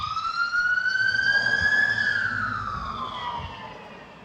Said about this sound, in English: Sorry, I'm gonna have a siren for a second.